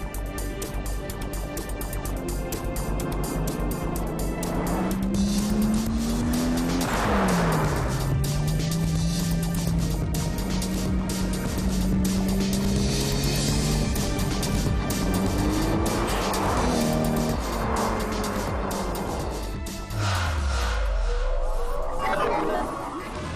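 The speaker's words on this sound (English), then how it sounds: "The ADR Wheels drivability test puts the cars through real-world driving scenarios." Sport compact cars, including a 1997 Supra, are driven hard through a street drivability test, engines droning and revving up and down for a long stretch with gear changes, close and loud, and a sharp deceleration near the end.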